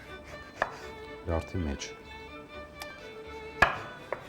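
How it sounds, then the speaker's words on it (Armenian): A knife chops through a lemon with its peel on, giving a few sharp, sparse thuds and short cutting bursts at close range, with a brief spoken phrase among them. "Կիտրոնը կիսենք, պիտի խամենք, չէ։ Չէ, պետք է կտրատենք հենց"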